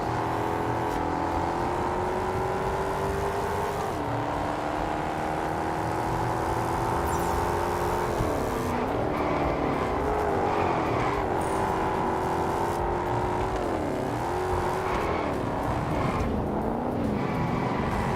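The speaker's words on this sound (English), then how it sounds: "I really gotta decrease the sound of the AI cars" Several AI race car engines in Test Drive Unlimited Solar Crown, including a Mustang, drone loudly and continuously, pitch wavering up and down as they accelerate and shift, with no talking.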